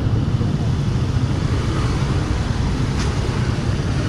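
Steady broadband road traffic rumble in Candelaria, Quezon at dusk, a continuous wash of engines and tyre noise with no distinct passing vehicle standing out.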